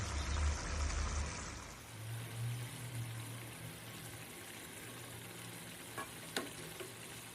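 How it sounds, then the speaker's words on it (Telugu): Eggs go into a simmering egg masala curry with green chilli and coconut powder, a soft, quiet bubbling sizzle with a couple of small plops and clinks near the end. "మరిగిన కూరలో గుడ్లని వదలాలి"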